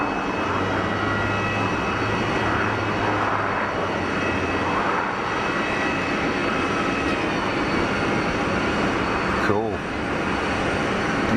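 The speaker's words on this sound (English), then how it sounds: "Do you see the prop go into beta? The prop equivalent of reverse thrust" Jetfly Pilatus PC-12 turboprop landing at Geneva Airport, propeller in beta reverse, giving a loud sustained propeller and engine roar with a short sweeping whoosh near the end; a voice speaks briefly over it.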